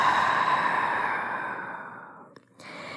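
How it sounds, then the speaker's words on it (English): One long, breathy exhale during a gentle yoga stretch, close and soft, fading gradually before a short pause and a faint, airy intake of breath. "Exhaling, melt down."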